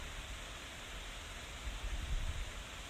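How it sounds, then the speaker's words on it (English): Midnight summer rain falling outside open windows makes a steady, soft broadband hiss with no voices, swelling slightly toward the end. "midnight rain waking you up through the open windows"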